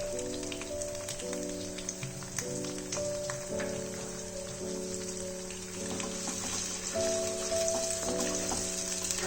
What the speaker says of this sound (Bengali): আদাটা যতক্ষণ ফ্রাই হচ্ছে আমি এখানে টমেটো পিউরিটা অ্যাড করে দিলাম